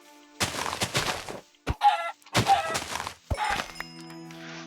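A chicken clucks in the Minecraft video game, several short squawking clucks in quick bursts with hard thunks and hits between them, close and fairly loud.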